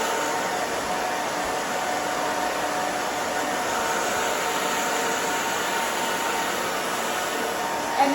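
Hair dryer blowing steadily while hair is dried straight down on a short haircut, a constant loud whooshing hum with no talk.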